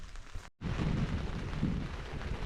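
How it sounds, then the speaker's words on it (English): Steady broadband rain pours down outdoors during a canoe trip in Temagami, a dense continuous hiss with low rumble, interrupted by a brief gap near the start, loud and close with no talking. "Well, that rain did come around on us."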